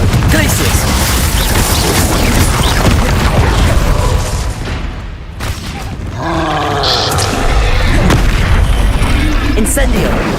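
Explosive Confringo spell blasts from Hogwarts Legacy gameplay: dense, loud booming bursts fill most of the stretch, easing briefly midway before resuming, with a voice calling out spell names over the din.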